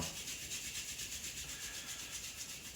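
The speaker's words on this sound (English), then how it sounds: "rub your hands together" Two hands rubbing briskly together, producing a soft, continuous close-up swishing friction that holds steady throughout, with no speech.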